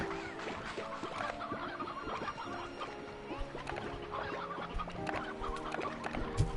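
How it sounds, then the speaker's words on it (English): Rooster and chicken clucking in the game Slime Rancher 2: a dense run of short clucks and chirps from several fowl, steady and fairly close over a busy game background, with no talk. "I need young roosters, not a rooster that looks like he's gonna croak already"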